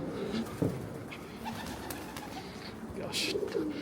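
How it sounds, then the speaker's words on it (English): Pigeons coo softly in a canal-side setting at Little Venice in London, several low repeated coos nearby over steady outdoor background noise, with a brief wing flutter. "This is home to all the pigeons."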